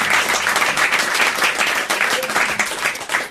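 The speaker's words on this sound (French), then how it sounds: "on vous applaudit, Monsieur Patria" Loud, dense applause from a crowd, steady and sustained throughout.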